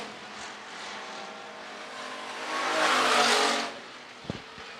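Hobby stock race cars roar past on the back straightaway at a dirt raceway, a sustained engine drone that swells louder as the pack nears and then fades, with no talk.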